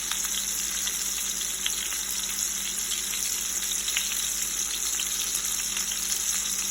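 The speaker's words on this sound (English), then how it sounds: "Bubbling along real nice." Pork Marsala sauce with added cream bubbles and sizzles in a pan, giving a loud, constant hiss dotted with small pops throughout, with no one talking.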